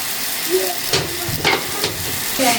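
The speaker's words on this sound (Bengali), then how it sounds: "ভাজি করে নিতেছে এগুলাও পটল ভাজি হয়ে গেছে" Pointed gourd (potol) fries in a pan with spices, a continuous soft sizzle and hiss with occasional stirring scrapes, heard up close without any talk.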